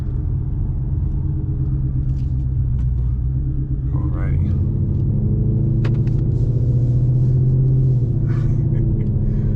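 A 2020 Ford Mustang GT's engine rumbles steadily and loudly while driving, a deep continuous drone with a brief spoken word over it.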